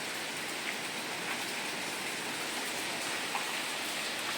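Steady rain falls in a dense, even hiss with occasional heavier drops, no voices, near Mount Semeru in Lumajang, East Java.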